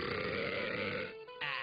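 A cartoon character lets out a loud, drawn-out burp, a throaty grunting rasp that breaks off briefly and then resumes, with no other sound around it.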